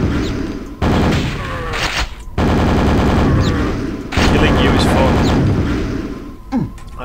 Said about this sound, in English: Super nail gun.